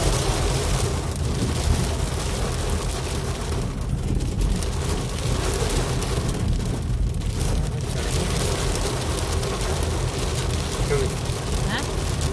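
A rain shower starting in the mountains near Yamunotri, a steady broadband hiss of rainfall mixed with wind buffeting the microphone, continuous and fairly loud for the whole stretch.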